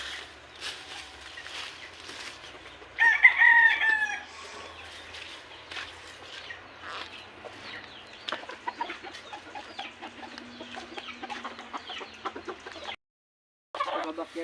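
Backyard chickens at feeding time cluck and squawk, with a loud burst of calls early on, then scattered pecking and clucking up close before a brief silence near the end.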